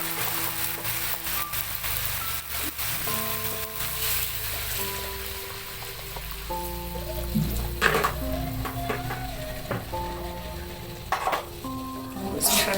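Frying kencur (aromatic ginger) in a pan for seblak sizzles loudly and steadily, with stirring and pan clatter on top, while background music plays.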